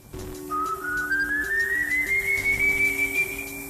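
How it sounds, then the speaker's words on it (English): A person whistles a slow, steady, menacing tune, each note held and stepping up and down, clear and close with no talking. "he whistles a distinct tune as he searches for more"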